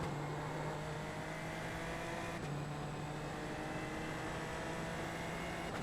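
Super Formula Lights race car in the iRacing sim at Brands Hatch, a steady loud engine drone holding constant with a brief pitch shift near the middle as it brakes and drops through the gears.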